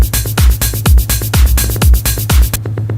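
A techno drum pattern pairs a pounding kick with crisp, rolling triplet percussion, loud and driving, cutting off near the end.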